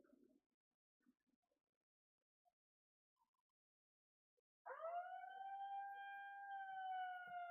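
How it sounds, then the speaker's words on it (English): Siren blaring at a lawn bowls national championship for over-60s men, a single sustained wailing tone that starts abruptly after near silence with faint scattered noises, moderately distant. "And there goes the siren now."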